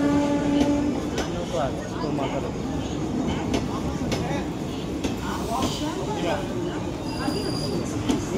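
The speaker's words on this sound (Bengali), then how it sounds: "তো উঠে গেছি আমরা ট্রেনে, সবে জাস্ট ছাড়লো রানাঘাট থেকে" Train just pulling out of Ranaghat station, heard from inside as a steady rumble and rattle of wheels on track, with a brief tonal whine early on and voices talking over it.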